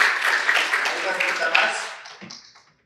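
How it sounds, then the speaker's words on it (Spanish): An audience applauds after a technical talk at a conference, a steady wash of clapping that holds and then tapers to silence. "Un aplauso para el ingeniero Rolando."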